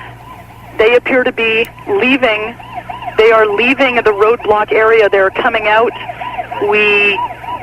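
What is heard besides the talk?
ambulance sirens passing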